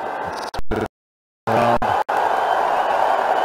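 The crowd at a 2017 Bangladesh Premier League cricket match between Sylhet Sixers and Rajshahi Kings cheers in a loud, continuous roar, broken by a few brief cut-outs and one long silent gap.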